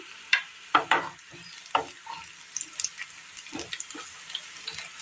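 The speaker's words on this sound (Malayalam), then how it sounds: "ഇതിലേക്ക് ഒരു 4 വെളുത്തുള്ളി ഇട്ട് കൊടുക്കാം" Shallots and garlic stirred in a hot frying pan, a few loud scraping knocks of a spoon followed by lighter clatter over a soft, steady sizzle.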